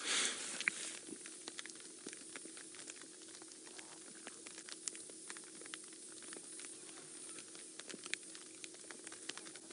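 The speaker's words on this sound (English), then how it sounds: "The drops are starting to get quite big. You might hear the pitter-patter on our rain covers." Raindrops patter on rain covers during a safari drive, scattered light taps and ticks at irregular intervals over a faint background hiss and a low steady hum. The drops are close but soft and sparse, with no talking.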